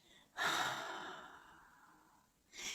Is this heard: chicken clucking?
no